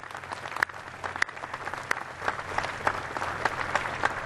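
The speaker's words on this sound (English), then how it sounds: "I'd like a round of applause for all the folks that are here for the Mercury program." An audience at a Kennedy Space Center Visitor Complex evening event honoring the Mercury program applauds, a steady spread-out clapping with a few sharper nearby claps, building slightly.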